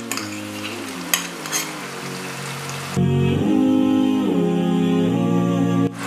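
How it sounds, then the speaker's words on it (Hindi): Mutton karahi meat sizzles and fries with yogurt in a pan, giving a steady loud crackle that grows denser partway through, with occasional stirring clatters and no talking. "अब हम इसमें दही ऐड करेंगे और इसे भी डालकर हम अच्छी तरह भून लेंगे।"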